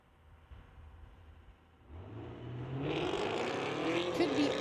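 A Camaro and a truck launch side by side at a street-legal drag strip, a low idle rumble swelling into loud, rising engine roar as both accelerate away, with an announcer's voice faintly underneath.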